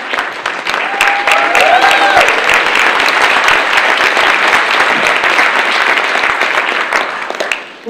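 Sustained, loud applause from a breakfast crowd at a Plymouth County Democratic League event honoring a state auditor, steady clapping that fills the room for several seconds before tailing off, with faint voices underneath.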